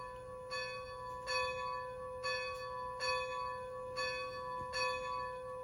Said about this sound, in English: Bell is, I went through the list and got 90s bell.